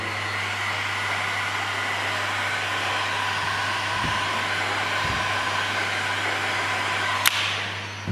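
A heat gun blows a steady, loud hiss of hot air onto small plastic trim circles on a Nissan Patrol Y62 interior during a woodgrain delete, running continuously with no talk, and a couple of faint knocks come near the end.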